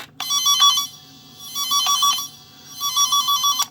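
A cable tracer tone generator emits an electronic warbling tone that pulses in three bursts, each alternating rapidly between two pitches, with short gaps between them, loud and close.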